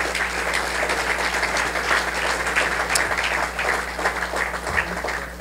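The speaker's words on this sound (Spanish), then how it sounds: "Denle un aplauso fuerte al Señor ahora." A church congregation at a vigil applauds loudly and steadily, a continuous wash of many hands clapping from start to finish with little else heard.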